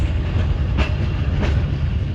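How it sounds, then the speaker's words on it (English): A loaded freight train rolls past nearby, a steady heavy low rumble with faint wheel clatter and a couple of brief metallic accents, recorded aboard another train in Vietnam. "it seems that we are just passing by a loaded freight train, exactly the same one,"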